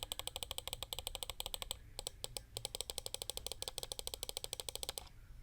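Left and right buttons of a Zowie ZA13-C gaming mouse with Huano switches click rapidly and crisply, many evenly spaced sharp clicks close up, with a brief pause in the middle and no talking.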